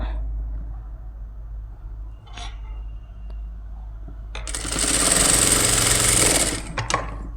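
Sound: sewing machine stitching piping onto a lined blouse

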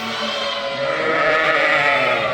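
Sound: sheep bleating

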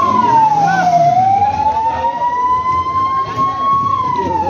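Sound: ambulance siren

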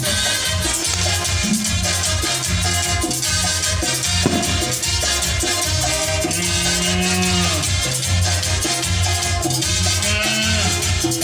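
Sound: angry cow mooing at a village festival bullfight

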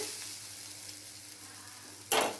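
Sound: eggs frying in hot pan with onions

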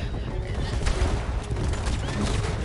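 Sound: gunshots in the video game Red Dead Redemption 2

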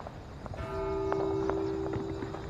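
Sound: church bells ringing in The Walking Dead: Saints & Sinners video game

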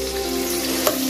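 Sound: frying ginger garlic paste with onions

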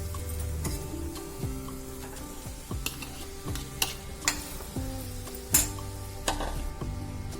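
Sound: mixing potato filling in pan with salt

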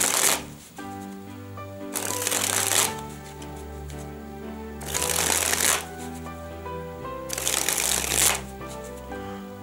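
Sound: cards springing hand to hand, spring flourish

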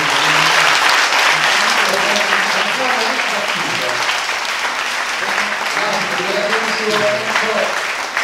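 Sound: audience applause at a piano concert

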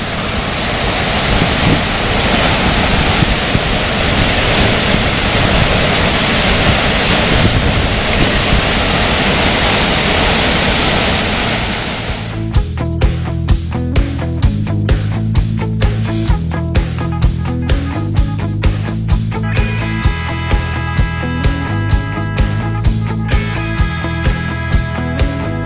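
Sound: roar of the Kivach waterfall's lower rapids

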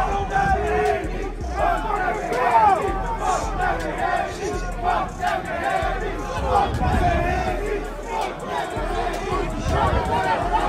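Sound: arena crowd chanting before Devin Haney vs Ryan Garcia fight

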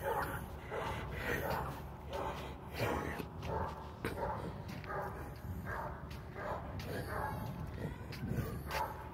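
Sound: dog barking and whimpering at the door

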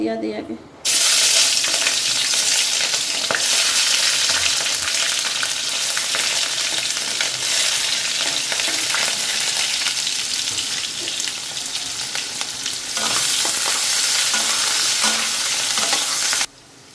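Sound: onion and chili frying in hot oil in a wok

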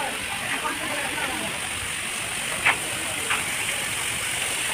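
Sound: artificial water fountain waterfall at Vandalur Zoo

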